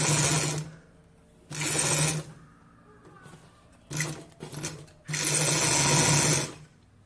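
A sewing machine stitching a grow bag runs in loud bursts: two long runs, a pause, short stuttering starts, then a final long run, close and clear with no talk.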